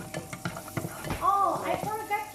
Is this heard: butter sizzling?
yes